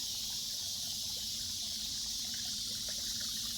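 Water trickles and splashes gently over a small hand-built water feature in a creek, a constant soft hiss of flow with faint bubbling, steady and unbroken.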